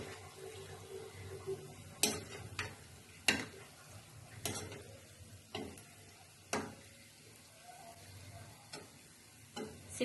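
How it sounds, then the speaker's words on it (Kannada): Garige, a sweet dough snack, being stirred and turned in a pan of hot oil on low heat, with soft continuous sizzling broken by several sharp scraping clicks of the utensil against the pan. "ಸಿಮ್ ಇಟ್ಕೊಂಡು ಸ್ವಲ್ಪ ತಿರುವಿ ಹಾಕ್ತಾ ಇರಬೇಕು."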